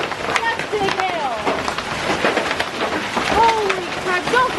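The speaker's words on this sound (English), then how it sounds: "That's big hail." Large hail hammers down in a fierce hailstorm, a constant roaring patter of sharp impacts heard from inside a vehicle, loud and close, while people exclaim and talk over it.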